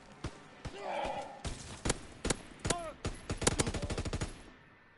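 Itcher Burst weapon fire in Call of Duty WW2 on the Shipment map, a rapid series of close, punchy shots, isolated at first and then a fast burst, with a player's voice talking underneath.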